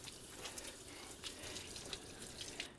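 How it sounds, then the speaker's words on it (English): Faint, steady running water from a kitchen tap during handwashing, a soft hiss with light splashing and small irregular spatters, heard close up without any talking. "Then we wash our hands."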